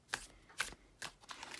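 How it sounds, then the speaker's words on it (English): Tarot cards are shuffled by hand in a few separate crisp riffling bursts, close and fairly quiet, with short pauses between them. "That's why I do that weird side shuffle and overhand shuffles."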